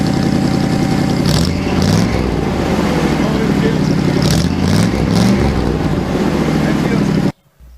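A loud truck engine rumbles and revs steadily, heard close from behind at the exhaust, with the throaty exhaust note rising and falling in a few surges before cutting off abruptly.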